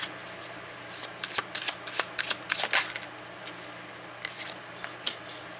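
Tarot cards being shuffled by hand in a rapid run of crisp riffling bursts, a pause, then a few softer shuffles near the end, close and alone without talk.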